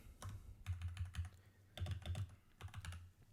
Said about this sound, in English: Dang, I cannot type.